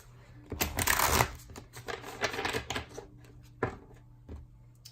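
A deck of cards is shuffled once at a table during a tarot-style reading, with a quick burst of riffling and soft flicking taps that trail off into a few quieter card snaps.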